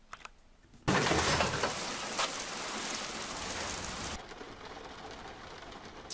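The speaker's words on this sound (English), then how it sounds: "Oh, here we are, sitting in the rain." Heavy rain in Euro Truck Simulator 2, a dense hiss that starts suddenly, stays loud, then drops to a softer patter as if heard from inside a truck cab, with no talking.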